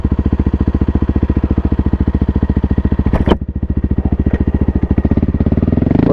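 A 2024 Kawasaki KLX300R dirt bike idles with a steady, rapid single-cylinder thump, then pulls away in first gear, its engine note rising toward the end; close and loud, no voices.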